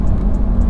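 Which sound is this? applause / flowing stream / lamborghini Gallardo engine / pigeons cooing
lamborghini Gallardo engine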